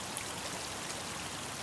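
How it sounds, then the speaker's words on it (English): Water spills steadily over a stacked rock water feature, a Utah Sierra five-stone design, making a soft continuous trickling and splashing wash heard up close and alone. "Water flowing over predominantly what we consider the front, although there is no front or back."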